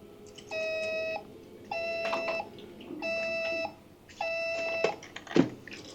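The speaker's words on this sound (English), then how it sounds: "Phone making a different ringtone noise every buzz." An electronic phone ringtone beeps in four short tonal bursts, each a stacked electronic chirp with a brief gap between, followed by a sharper click near the end, heard alone and fairly close.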